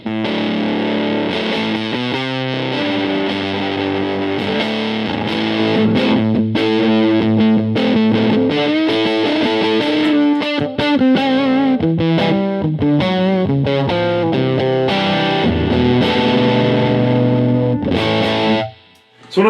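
Electric guitar played through a ZVEX Mastotron fuzz pedal, thick distorted chords and riffs ringing continuously and loud, shifting from thin to heavy bass, ending with a brief cutoff.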